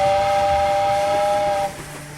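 A steam train whistle blows steadily and loudly as the last train departs, a sustained tonal blast that drops off near the end, leaving rumbling rail noise beneath.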